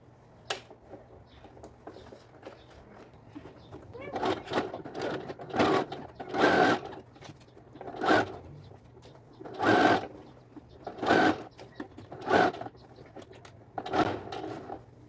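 A sewing machine stitches a French seam on a lined child's dress with a ruffled yoke, in a series of short separate bursts of close, clattering stitching with quiet gaps between.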